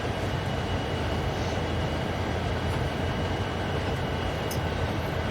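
A train in Train Sim World 2 rolls along through a canyon with a constant low rumble and wheel noise, steady and unbroken, with no voices.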